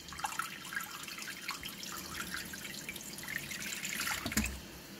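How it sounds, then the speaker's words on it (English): Water pumped into the tank of a homemade wire EDM machine, a steady close trickle and splash with faint dripping throughout. "Now I can reroute the circulation to fill the tank like this, and then now I'm filling my tank."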